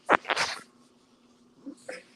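One sharp, close sneeze bursts out at the start with a quick breathy follow-through, then quiet with a couple of faint small sounds.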